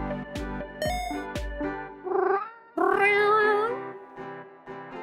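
Cartoonish cat meows from the video game Mushroom Cats, several separate mews after a few plucked tonal notes, clear and close with a short game jingle between them.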